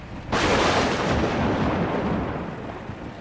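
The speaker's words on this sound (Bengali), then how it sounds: "খুব কাছে কোথাও একটা বাজ পড়লো" A sudden loud thunderclap bursts in and rolls on as a deep, rumbling roar that slowly fades, very close and powerful.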